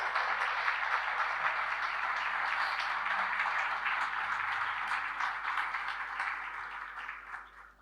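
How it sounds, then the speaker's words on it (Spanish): Steady applause from a church congregation, dense and continuous for several seconds before tapering slightly toward the end, with no voices standing out. "Si le va a aplaudir a Dios, apláudaselo a Dios."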